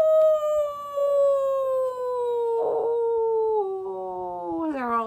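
A voice imitating a dog howling on a moonlit night: one long, smooth wavering howl that slowly slides downward in pitch, with a brief rough yelp partway through and a rising wobble at the end.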